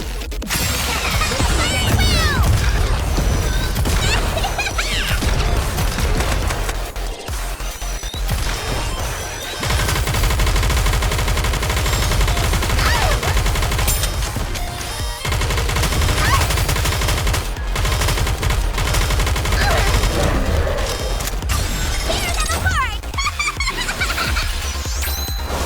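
Continuous heavy gunfire and explosive bombardment in the video game NIKKE: dense machine-gun bursts and booming impacts run almost nonstop and loud. Brief gaps break them up, with game voices and effects mixed in.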